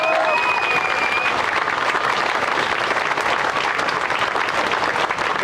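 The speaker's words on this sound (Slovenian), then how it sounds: "v najožji skupini Maša, en velik aplavz" Loud, dense applause from a crowd at a strike outside the Slovenian public broadcaster's building, a continuous roar of many hands clapping at even strength throughout, with a faint whistle-like tone briefly at the start.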